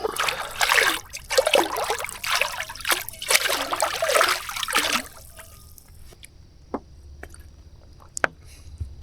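Water trickles and splashes while a coffee pot is rinsed out at an off-grid campsite, a busy close-up sloshing for about five seconds before it fades to quiet with a few faint ticks.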